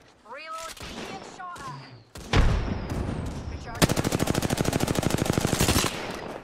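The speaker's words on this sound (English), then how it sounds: "I will shoot them so they don't advance." Automatic gunfire in a ranked Apex Legends match, a sustained rapid burst of loud, close shots that follows a few sharp single blasts, with other game sounds and brief tones before it.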